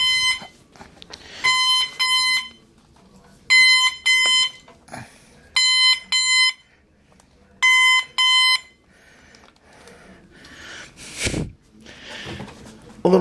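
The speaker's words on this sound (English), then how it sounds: "My fault for leaning on the bed alarm" A bed alarm beeps in five loud bursts of rapid electronic tones, each burst about a second long with short gaps, followed by quieter rustling and a brief snort-like noise near the end.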